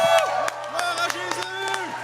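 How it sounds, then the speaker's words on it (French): A church congregation applauds during an evening preaching service, scattered sharp claps mixed with loud cheering, whoops and shouting voices throughout, close and lively. "qu'on peut donner une bonne main d'applaudissement à Jésus ce soir?"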